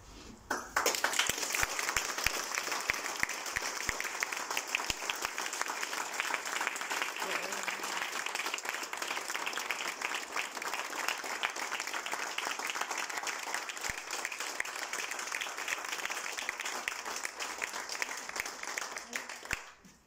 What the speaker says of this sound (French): Ces applaudissements sonores retentissants, cette ovation, ces cris bruyants et claironnants ponctuent la conclusion.